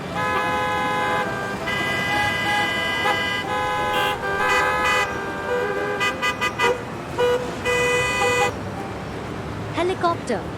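Car horns toot and honk repeatedly over busy road traffic, with several overlapping horn blasts of varying length close by against a steady rumble of passing cars.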